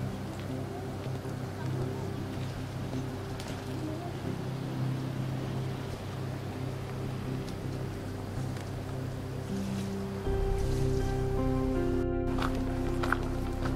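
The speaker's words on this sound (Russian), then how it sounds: "Какой-то более такой скоростной катер в сравнении с тем, который нас добрасывал" A speedboat arriving off a beach near Cape Aya, Balaklava, its steady engine drone low under waves and outdoor ambience, growing louder toward the end as the boat nears, with faint voices in the background.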